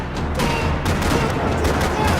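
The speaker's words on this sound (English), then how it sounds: "Another parking lot rattling with gunfire." Gunfire rattling across a parking lot in the video game Max Payne 3, loud continuous bursts of shots with booming hits, dense and close throughout.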